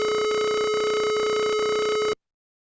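A steady pure tone at 427 hertz from an online tone generator holds constant and loud for about two seconds, then cuts off abruptly into silence.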